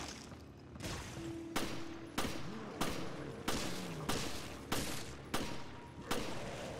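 Shots ring out from firearms in the survival horror game Resident Evil: Revelations, fired at enemies in a steady series of about ten sharp, loud reports roughly every half second, each with a short ringing tail.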